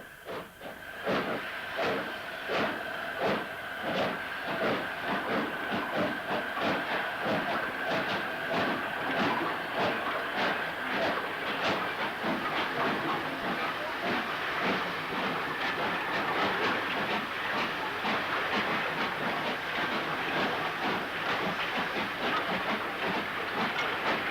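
A train passes along the railway between Manchester and Bury with a steady rumble and repeated clickety-clack of wheels over rail joints, loud and continuous throughout with no talk.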